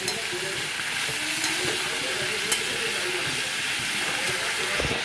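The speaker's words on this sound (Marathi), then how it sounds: "आता हा चांगला असा कांदा भाजून घ्यायचा कांदा टमाटा खोबरं" Onion, tomato and grated coconut sizzle and fry steadily in a pan for a mutton curry, a continuous close hiss with faint stirring clinks throughout.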